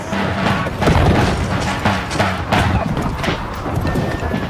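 Cannon fire and musketry in a battle at Waterloo in 1815, heavy booming blasts and rumbling crashes layered densely and loud throughout.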